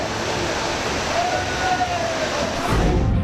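Floodwater rushes through a street during heavy monsoon rain as a broad, steady roar of churning water, loud and continuous throughout, with a faint tonal whine briefly rising above it.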